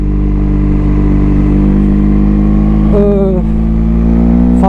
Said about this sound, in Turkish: Sadece bu egzozun sesini dinle, dinlemek için çıktım.